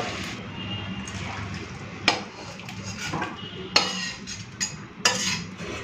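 Tamarind-soured fish-roe fritter curry is poured and scraped from a pot into a dish, with metal utensils clinking against cookware in a few distinct knocks over a steady kitchen background.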